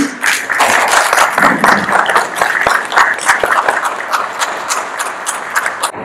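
An audience bursts into applause at a Haitian community conference and debate in Boston, with dense, irregular clapping from many hands that carries on loudly for several seconds and has no talk over it.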